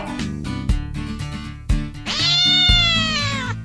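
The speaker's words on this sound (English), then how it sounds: "A cat that Tom had hidden there sprung out at Aunt Polly." In an animated children's story, a cat lets out a loud, drawn-out meow over a rhythmic musical backing, following a couple of short cat sounds earlier.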